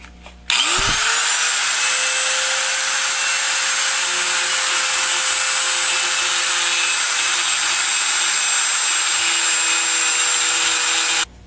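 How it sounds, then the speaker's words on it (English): A die grinder fitted with a non-ferrous burr spins up with a rising whine and then holds a loud, steady high-pitched scream while shaping an aluminum Edelbrock intake manifold for AMC engine heads. "Here I have a non-ferrous grinding burr in the old die grinder, and we're going to do some more shaping here."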